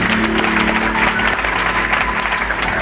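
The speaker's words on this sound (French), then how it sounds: "Nous allons acclamer le Seigneur." A church congregation applauds the Lord with loud, dense, continuous clapping that fills the room, with a faint murmur of voices underneath.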